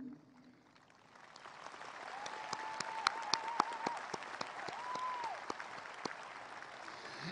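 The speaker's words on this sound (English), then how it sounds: "Let's welcome them with our applause." Graduation audience at a 2021 high school commencement applauds steadily for about seven seconds, a dense even wash of clapping swelling after the first second, with a few faint tones and scattered sharper claps mixed in.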